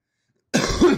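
A single close, loud cough into a microphone breaks a half second of silence and lasts about half a second.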